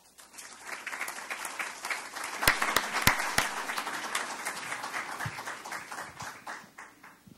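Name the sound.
audience applause welcoming a speaker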